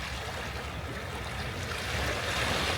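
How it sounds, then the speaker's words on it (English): Ocean waves wash against the shore along the windy Dallas Road coastal waterfront, a steady broadband rush of surf and wind at moderate level that swells slightly toward the end. "the waves really pick up"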